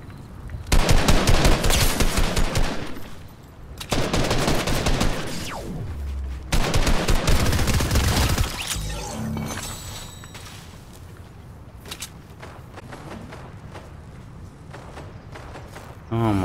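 Repeated bursts of close automatic gunfire from the video game Fortnite, several loud volleys separated by short gaps, with a voice talking over parts of the firing.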